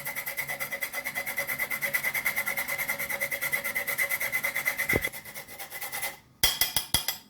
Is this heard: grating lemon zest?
yes